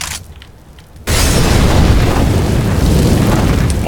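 A Molotov cocktail in Counter-Strike lands after a short quiet moment and bursts into a loud, sustained whoosh and roar of flames that keeps burning steadily to the end.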